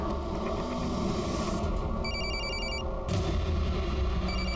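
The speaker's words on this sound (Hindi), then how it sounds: "उसके फोन पर फोन कीजिए जल्दी" Telephone rings as a call is placed, electronic ring bursts with pauses heard over a dense, steady background rumble, moderately loud.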